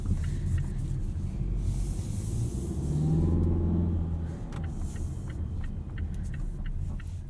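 A 2019 Mazda CX-5 Signature Turbo is driven on the road, a steady low engine and road rumble heard from inside the cabin with tire noise, rising briefly in the middle before settling, no voices.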